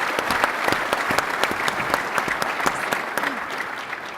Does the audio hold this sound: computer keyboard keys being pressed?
no